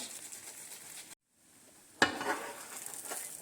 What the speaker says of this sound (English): So I keep doing that till all the sides are oiled and fried.